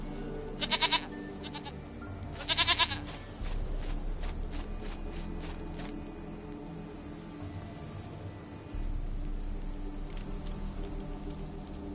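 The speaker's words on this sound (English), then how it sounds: "Goat of mine, dearest, sweetest goat." Goat bleating in The Witcher 3 video game: two short, wavering bleats close by, followed by soft shuffling footsteps over a low ambient game background.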